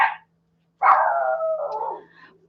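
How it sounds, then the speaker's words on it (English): A pet dog indoors gives a short bark, then a drawn-out, wavering howl-like bark that trails off, fairly close and alone in an otherwise quiet room. "And my dog is barking, and I'm sorry."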